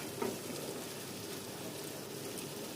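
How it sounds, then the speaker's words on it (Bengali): Fish frying in oil gives a steady, hissing sizzle like light rain, constant and moderately close, with no voices. "মাছগুলোকে ভেজে নেবেন।"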